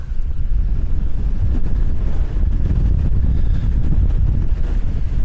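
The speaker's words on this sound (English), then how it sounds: "The wind around there is unreal." Strong wind roars continuously against the microphone, a loud, low buffeting rush with gusts and no voices.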